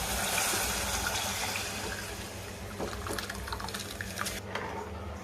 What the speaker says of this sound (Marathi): आता हे आपण जे गरम केले मटकीच पाणी येते मसाल्यामध्ये आपण टाकून घेऊ